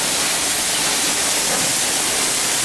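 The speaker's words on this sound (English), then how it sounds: "See, we got a waterfall here, so we got that hole plugged up." Water pours over a small waterfall in a loud, steady rushing hiss with no breaks and no voices.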